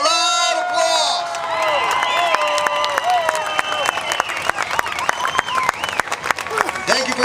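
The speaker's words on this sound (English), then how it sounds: "Give them a loud applause" Veterans Day parade crowd in San Jose applauding and cheering, a busy outdoor mix of clapping, whoops and shouting voices, with sharp claps cutting through and people talking throughout.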